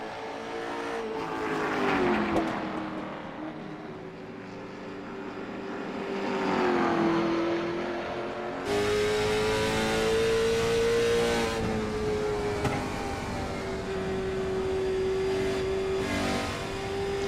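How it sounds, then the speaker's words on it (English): Late model race cars roar around the Nashville Fairgrounds track, a sustained engine drone with cars swelling past around two and seven seconds before a steady high-pitched whine holds on, loud and fairly near. "I love the sound of these cars."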